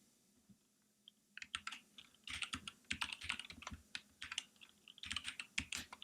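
Rapid, irregular clicking of keys on a computer keyboard as Linux commands are typed, close and crisp in quick bursts with short pauses, no voices.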